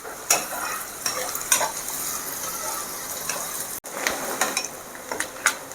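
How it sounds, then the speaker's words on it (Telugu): Onions and green chillies frying on a medium flame toward golden brown for a prawn fry, with a continuous soft sizzle broken by clattering spoon stirs and scrapes against the pan. "ఇవన్నీ వేసుకొని మనము బాగా దీన్ని గోల్డెన్ బ్రౌన్ వచ్చేదాకా మీడియం ఫ్లేమ్ పెట్టుకొని ఫ్రై చేయాలి"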